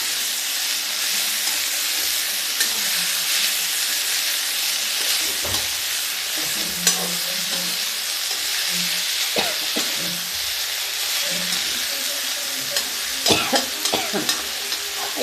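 Washed latjira saag greens fry with garlic in a pan, giving a constant loud sizzling hiss with occasional scraping and clinking from a spoon stirring through them, close up and without talk.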